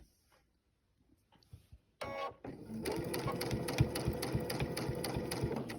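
A sewing machine takes a few stitches on a quilted Dresden table topper piece, a soft rapid mechanical chatter starting after a quiet moment and running steadily to the end.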